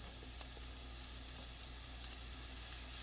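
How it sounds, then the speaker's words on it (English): Spinach and onion fry in a pan with a steady, close sizzle and hiss that runs unbroken for the whole few seconds, alone with no talking. "so let me fry my spinach up, a little bit onion"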